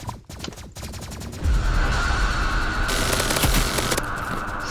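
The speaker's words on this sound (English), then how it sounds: "minigun absolutely shreds" A minigun firing in the video game Rivals, a continuous loud high-rate roar of rapid shots that swells into a dense sustained burst after a brief lead-in.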